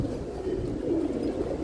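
Racing pigeons kept for tournament flying coo softly and continuously in their loft, a low murmuring layer of several birds close by with no talk.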